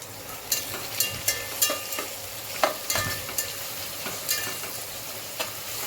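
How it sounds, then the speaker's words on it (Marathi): Finely sliced onions fry in a pan for chicken biryani, a soft continuous sizzle broken by a series of sharp scraping and tapping stirs against the pan at irregular intervals. "तोपर्यंत आपला कांदा पण मस्त व्यवस्थित फ्राय करून होतो"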